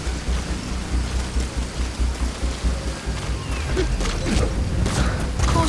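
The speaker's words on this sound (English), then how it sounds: "Caution, rain approaching" Steady rain and rumbling thunder in the video game Metal Gear Solid V, a dense continuous wash of rainfall with low rolling thunder swelling louder toward the end, no voices over it.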